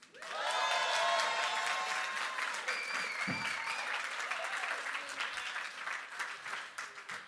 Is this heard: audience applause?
yes